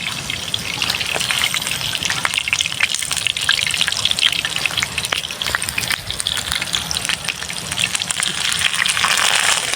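Potato perkedel fritters, jumbo-sized, fry in hot oil with a loud, steady broadband sizzle dotted with sharp crackles and pops that continues for the whole stretch, close up and without talk.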